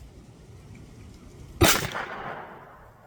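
A Jimenez Arms JA22 .22LR pistol fires a Mini-Mag round: one sharp, loud report whose ringing tail fades over about a second, with no talk.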